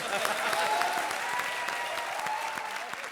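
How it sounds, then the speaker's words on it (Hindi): A studio audience at a comedy show applauds steadily and loudly, dense clapping filling the moment with faint voices mixed in beneath. "तालियां बाबा के लिए"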